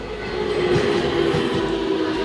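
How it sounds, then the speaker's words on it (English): A Keio Line train passes through Tokyo with a loud, steady rumble and a sustained mechanical hum, close by and continuous throughout. "This is the biggest buildup for a train I've ever seen in my life."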